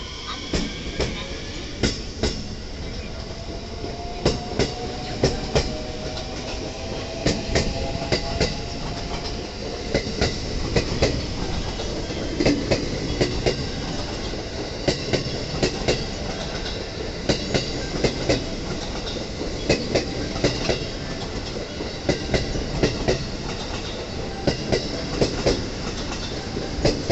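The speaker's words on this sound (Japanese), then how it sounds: "大久保駅の新快速電車" A rapid commuter train passes Okubo Station in Japan, steady clickety-clack from the wheels over the rails and a faint squeal, loud and continuous throughout with no voices.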